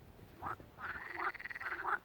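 A few frogs croak in a pond in open grassland, giving three or four quiet, rasping pulsed calls close together, faint against a soft outdoor background with no voices.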